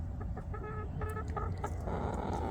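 Cochin chicken clucks and squawks in short, harsh bursts close by, with a steady low background hum; no talking.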